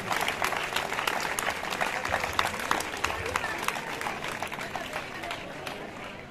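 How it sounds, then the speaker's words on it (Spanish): Crowd clapping at an award ceremony for a running race, honouring youth category finishers, with sustained, dense applause in a sharp, continuous patter under a faint voice. "Fuerte aplauso"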